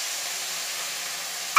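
Spice paste added to browned onions frying in a pan gives a steady, soft sizzling hiss, unbroken throughout, ending with a brief bright clink.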